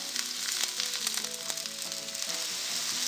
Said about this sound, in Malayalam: ഉള്ളി മൂപ്പിക്കാനായിട്ട് ചട്ടി ചൂടായിട്ടുണ്ട്. ഇതിലേക്ക് കുറച്ച് എണ്ണ ഒഴിച്ചു കൊടുക്കാം